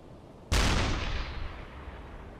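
A U-boat deck gun fires a shell in the submarine game Uboat, a single sharp booming report that decays into a long rumbling tail, heard alone without speech.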